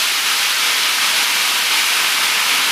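Vegetarian Thai basil stir-fry frying in hot oil, giving a loud, steady, continuous hiss of sizzling and spattering with no break and no talk.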